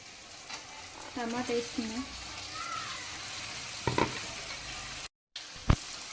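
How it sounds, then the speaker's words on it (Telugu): Ginger and garlic fry in hot oil with a steady, close sizzle, stirred now and then. A voice talks briefly over the crackling. "నూనెలో మంచిగా ఫ్రై అవుతుంది అల్లం వెల్లిపాయ."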